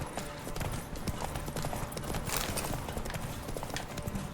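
A horse in The Witcher 3 gallops with a rapid, rhythmic clatter of hooves, moderately loud, against game ambience. There is little else, apart from possible faint voice or game sounds in the background.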